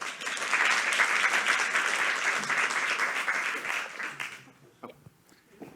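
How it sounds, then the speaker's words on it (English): Sustained, loud applause from a lecture audience welcoming a speaker on crisis and disaster response, dense clapping for about four seconds before it fades out quickly to quiet room sounds and a few scattered claps. "So please give a big applause for Kenny Meesters."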